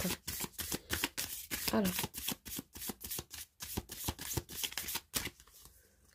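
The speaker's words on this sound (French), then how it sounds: "Je vais tirer deux cartes." Oracle cards are shuffled by hand in quick rhythmic bursts of crisp riffling and slapping, close and clear for several seconds, then slow toward a draw. A voice speaks briefly at the start.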